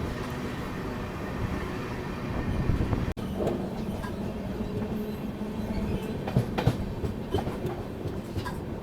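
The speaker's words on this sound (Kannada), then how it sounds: "ಕನ್ಯಾಕುಮಾರಿ ಎಕ್ಸ್ಪ್ರೆಸ್ ಎಂಟ್ರ್ ಆಗೈತೆ ರೀ ತಾಡಿಪತ್ರಿ ಬರುತ್ತೆ ಅನಂತಪುರ ಡಿಸ್ಟಿಕ್ ಒಳಗೆ." A Pune to Kanyakumari Express train rolls steadily along the rails near Tadipatri in Anantapur district. It keeps up a continuous loud rumble with clickety-clack rhythm and occasional squealing wheels, and no voices are heard.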